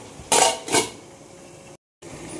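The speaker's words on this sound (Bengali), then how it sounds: "এবার আমি ঢাকা চাপা দিয়ে দেবো।" A metal lid goes onto a cooking pot with two close clanks in quick succession, followed by quiet room tone and a short dropout.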